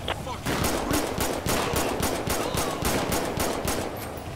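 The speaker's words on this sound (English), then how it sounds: "Shots fired." Rapid, rhythmic automatic gunfire in GTA 5 with the LSPDFR police mod: a steady string of loud, close shots at about four per second that runs nearly continuously after a brief opening pause.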